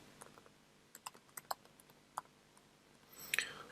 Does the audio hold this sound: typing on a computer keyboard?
yes